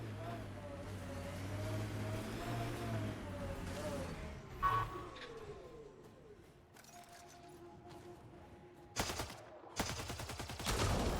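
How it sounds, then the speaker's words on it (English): Gunfire in the video game Mass Effect: Andromeda is aimed at a Ket device. Short, loud bursts of shots come near the end, after a stretch of rumbling, whooshing game ambience. "Shooting the device will destroy it."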